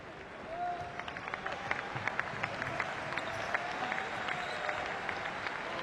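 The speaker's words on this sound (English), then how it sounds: "Oui, s'il vous plaît, de gros applaudissements." A basketball arena crowd at a Eurobasket 2015 game applauds with a sustained wash of clapping and crowd noise, a few sharper claps rising above it, and talk mixed in faintly.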